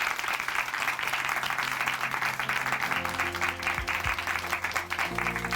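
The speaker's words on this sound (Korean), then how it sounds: "다시 한번 박수 보내드리겠습니다" A church congregation at Chuncheon Hanmaum Church applauds after a testimony, continuous dense clapping throughout, with a sustained musical tone entering partway through.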